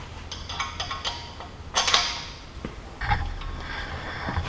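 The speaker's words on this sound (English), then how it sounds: "pull this pin, and you raise it right up here. Insert that pin." Metal clicks and clanks from a Massey Ferguson mechanical thumb accessory on a GC Series tractor's CB65 backhoe as it is raised and its pin inserted, a few sharp close knocks and rattles against faint background noise.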